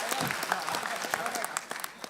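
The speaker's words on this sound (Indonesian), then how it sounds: "Boleh tepuk tangan buat saya sekarang ya?" Applause from a stand-up comedy audience, a moderate patter of clapping with scattered louder claps and some voices mixed in.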